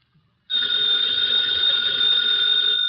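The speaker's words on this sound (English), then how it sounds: "that phone bell means adventure" An old-fashioned telephone bell rings continuously and loudly with a bright metallic trill, starting abruptly after a brief silence, in a 1950s radio drama setting.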